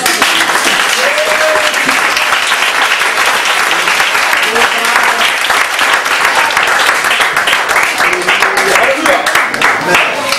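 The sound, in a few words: congregation applauding in church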